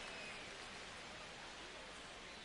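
Steady rain falls on a baseball field in the MLB The Show 25 video game. It makes a continuous, even hiss of drops that is faint and has no break.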